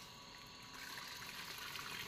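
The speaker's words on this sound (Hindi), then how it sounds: "हाँ पाइप खींच के डाल दो उसके अंदर" Water gushes steadily from a garden hose into a plant pot, a continuous broadband rush that grows louder and fuller partway through, close by with no talking.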